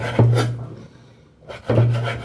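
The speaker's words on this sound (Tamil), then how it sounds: "ஒரு பக்கம் சூப்பராக கட் பண்ணியாச்சு இப்போ இந்த பக்கம்" A knife cuts through a pomfret fish in two close, loud rasping strokes, with a short pause between them.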